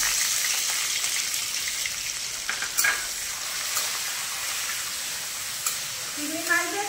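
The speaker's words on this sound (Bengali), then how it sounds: "এবার দিয়ে দিলাম কুচনো পেঁয়াজ" Chopped onions hit hot oil with five-spice (panch phoron) and fry with a bright, steady sizzle up close, a few spatters and scraping stirs breaking through, with a brief voice at the very end.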